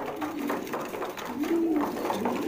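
Kashk bunaydi pigeons coo softly while feeding squabs, a few low, gentle coos close by over a faint background murmur.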